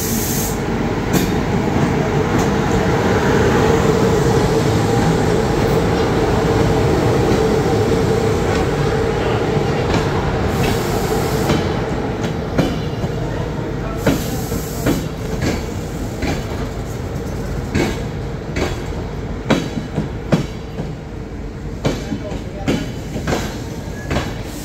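Astra Trans Carpatic train on the Bucharest–Timișoara line rolling along the rails, a loud, steady rumble that later breaks into rhythmic clickety-clack wheel beats, heard up close with no voices.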